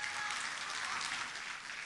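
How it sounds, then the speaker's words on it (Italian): Dense audience applause fills a stage show as a shy performer takes his seat, a steady wash of many hands clapping at moderate distance, fading slightly toward the end. "Facciamo un bel applauso, si sta accomodando qui"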